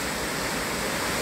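Cascata di Mezzo, a waterfall about a hundred metres high in Vallesinella near Madonna di Campiglio, roars as a loud, steady, dense wash of falling water close by, with no voices.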